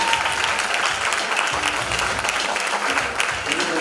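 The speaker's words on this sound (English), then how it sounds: "Give them a huge round of applause, please." Sustained applause from an audience at a youth business awards ceremony as winners in manufacturing come forward, steady dense clapping filling the room without a break.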